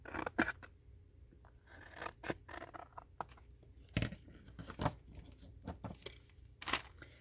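Scissors snip out a paper shape during resin pour preparation, a quiet, close series of irregular crisp cuts and rustles with sharper clicks scattered along the way.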